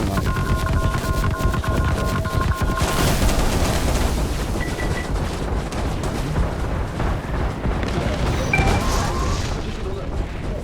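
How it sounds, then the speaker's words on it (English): In the space game Star Citizen, a missile detonates near the player's ship with a heavy boom, followed by rumbling blast noise and debris crackle that persist throughout, with cockpit tones heard early on. "That missile exploded a bit too close for comfort."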